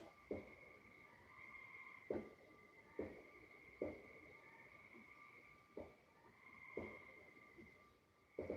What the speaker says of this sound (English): Yeah, you hear the tree frogs?